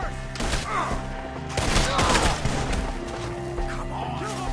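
Gunfire in Red Dead Redemption 2 during a shootout at enemies in a tree: dense overlapping shots and impacts fill the whole stretch, loud and close, with game voices mixed in.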